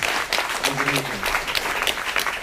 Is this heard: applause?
yes